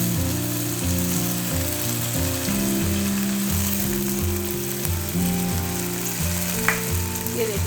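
Mixed vegetables sizzle steadily in oil in a pan, a continuous frying hiss under loud background music with a few clicking stirring sounds.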